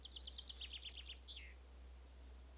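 A small cartoon bird chirps in a quick run of bright, high tweets lasting about a second and a half, then falls silent over a low steady hum.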